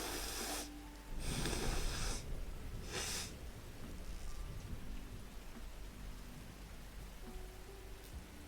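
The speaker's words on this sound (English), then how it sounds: "Hang on, I gotta lean out of frame here and blow my nose a little bit." A person blows their nose close to the mic in about three short, rough bursts, the second one longest, followed by quieter sniffing and low room noise.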